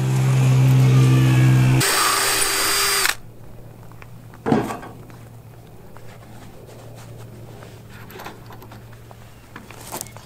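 A power drill drives screws into 2x8 wooden trailer floor boards, whining loudly for about three seconds before stopping abruptly, followed by a single knock and quiet handling sounds.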